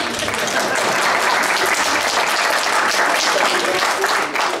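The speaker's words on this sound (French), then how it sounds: "Vous pouvez applaudir." Audience at a town grand debate meeting in Rognes applauding steadily, a dense, even wash of clapping that holds for the whole stretch with no voice over it.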